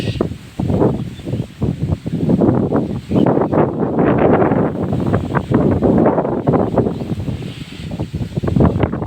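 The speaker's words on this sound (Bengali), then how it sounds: "বাতাস" Wind blows hard across a microphone outdoors in a Bengali village, roaring and buffeting in uneven gusts throughout, loud and close with no voices.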